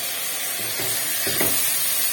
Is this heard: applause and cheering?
no